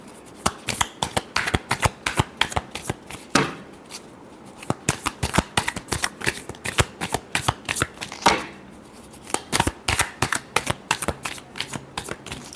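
Tarot cards shuffled by hand in quick riffling bursts, a dense run of crisp flicking slaps with brief pauses between rounds, close and clear with no talk.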